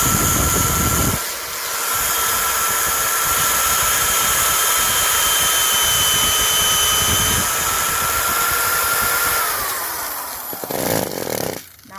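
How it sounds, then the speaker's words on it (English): A power drill boring pilot holes in wood boards for a raised garden bed runs as a steady, loud high-pitched whine for several seconds, then winds down. "I'm just going to put some pre-drilled holes in here where my nails are going to go"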